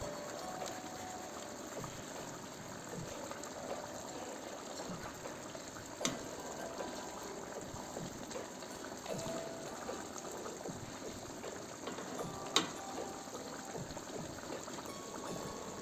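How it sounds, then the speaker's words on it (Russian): Rice for plov, seasoned with salt and cumin, steams over high heat in a pot with zigir oil, giving a steady soft bubbling hiss and faint sizzle throughout, with a couple of brief clinks. "Я выпариваю рис на интенсивном огне, распределяя его по площади."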